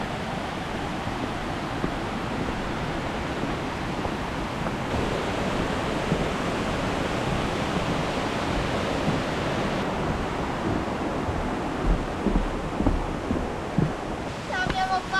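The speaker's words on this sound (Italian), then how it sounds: "Fiume sotterraneo, ed è anche grande." Large underground river inside a mountain flowing steadily, a loud, broad, continuous rushing roar with no breaks.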